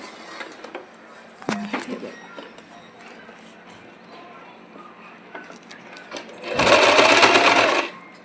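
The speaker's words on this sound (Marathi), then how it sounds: "आणि एक कापड तुम्ही असं टिप मारून घेऊया आता." A sewing machine stitches cloth for a ready-made Gudi sari. Quiet handling noises and a light knock come first, then a loud, close run of fast stitching lasts about a second and a half.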